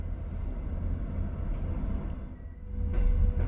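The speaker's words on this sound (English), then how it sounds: "Our train arrives into the beautiful railway station here in Kouvola right on time." A Finnish passenger train pulling into Kouvola railway station, a steady low rumble of the rolling cars that grows slightly louder toward the end, with faint brief squeals over the drone.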